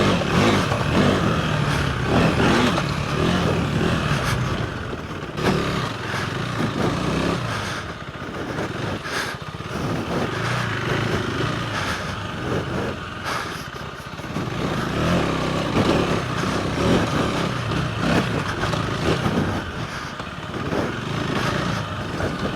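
A KTM 390 Adventure R single-cylinder motorcycle out on a trail, its engine droning and revving steadily up and down, loud and close, with wind and riding noise mixed in throughout.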